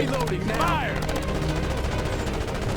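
Rapid bursts of gunfire rattle continuously through a dense, noisy battle mix in the video game Ghost Recon Advanced Warfighter 2 on PS3, with a voice shouting briefly over the shooting.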